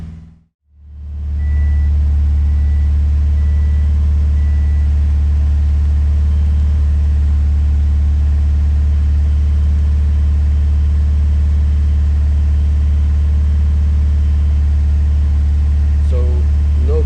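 Subaru STI engine cranks, catches after a brief silence and settles into a steady, deep idle rumble that stays loud and close throughout, with a faint extra sound near the end.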